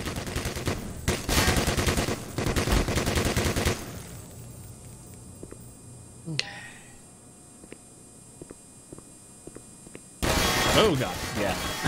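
Automated turrets firing in Black Mesa, bursts of rapid gunfire filling the first few seconds and returning loudly near the end, with a quieter stretch between.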